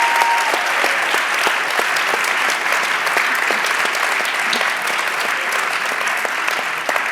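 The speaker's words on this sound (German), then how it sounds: "Ein Applaus für Dr." Loud, sustained applause from an audience at a Uni Bonn public evening on dreams and sleep, honouring Dr. Daniela Rösler, a thick continuous patter of many hands with crisp individual claps.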